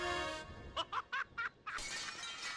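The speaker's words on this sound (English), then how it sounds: "jumped screaming through the stained glass window" A stained glass window shatters in the Discworld Noir video game as a character leaps through, a loud bright crash of breaking glass with scattering shards, preceded by a sustained tone and a few short bursts of a voice.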